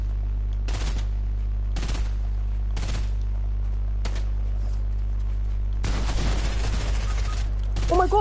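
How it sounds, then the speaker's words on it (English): Fortnite gunfire crackles in short loud bursts at roughly one-second intervals, then builds into a longer dense volley near the end over a constant low game hum. "they're both shooting at me!"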